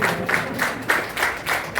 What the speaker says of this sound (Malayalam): ഒന്ന് കൈയടിച്ച് നോക്കണേ